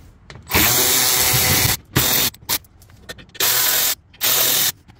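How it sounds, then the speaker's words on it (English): A battery-powered ratchet spins out 8mm screws from a Ram 1500 fog light shield, several loud, close whirring bursts of varied length separated by short pauses. "battery ratchet is what I use"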